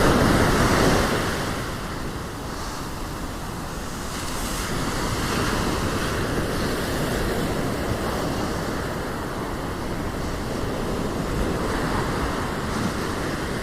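Ocean surf rolls onto a Durban beach, a continuous loud wash of breaking waves with strong wind buffeting the microphone throughout.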